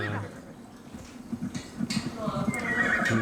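In the Assassin's Creed Odyssey video game, a horse whinnies and its hooves clop in a steady rhythm on the ground. The sounds are close and clear, and people talk over them.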